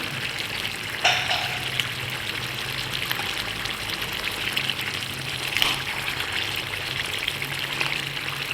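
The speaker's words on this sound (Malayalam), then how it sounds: "നമ്മുടെ കപ്പ ഇനിയും ഊറ്റാം" Water drains off boiled tapioca (kappa), a steady close-up rush of pouring and splashing liquid that runs continuously, with a couple of brief clatters along the way.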